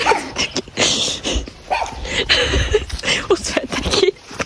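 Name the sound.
dogs barking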